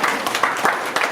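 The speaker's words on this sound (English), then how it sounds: "Clap for her, young author." An audience at a youth leadership camp claps for a young author, a brief dense burst of applause with no speech over it.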